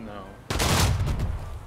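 Gunshots from the video game Unearned Bounty: silence, then a loud burst of gunfire at about half a second that rings on with sustained, noisy blasts for over a second.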